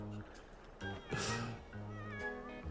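A cat meows in The Sims 4, two or three drawn-out game meows standing out over near-constant background music, while a person talks over the gameplay.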